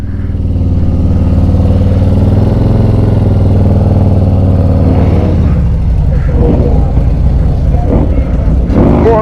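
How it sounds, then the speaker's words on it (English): A motorcycle engine idles close by with a steady, low rumble at an outdoor motorcycle club anniversary gathering in Dallas, Texas, while people talk over it toward the end. "my boy B Nasty back on his bike"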